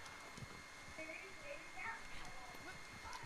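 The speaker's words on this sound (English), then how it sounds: "Oh, my horse doesn't want to jump." Horse hooves clip-clop in a steady trotting rhythm in the Red Dead Redemption 2 video game, fairly faint beneath a player's talk and some scattered in-game ambient sounds.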